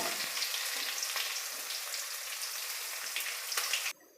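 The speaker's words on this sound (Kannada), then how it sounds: "ಬೆಳ್ಳುಳ್ಳಿ ಚೆನ್ನಾಗಿ ಫ್ರೈ ಆಗಬೇಕು" Crushed garlic, skins still on, frying with curry leaves in hot oil, giving a steady, dense sizzle heard up close and alone, which cuts off sharply near the end.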